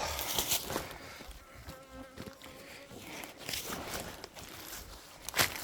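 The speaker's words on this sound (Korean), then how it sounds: "지금 이놈들 벌통 건드렸다고 엄청나게 따라옵니다" Honeybees swarming around a hive that has been disturbed, a close, wavering buzz of many insects rising and falling, with faint rustling and movement sounds.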